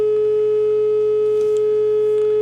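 An LM380N amplifier chip plays a steady, loud test tone that holds one unbroken pitch throughout, with a faint hum beneath it and no voices.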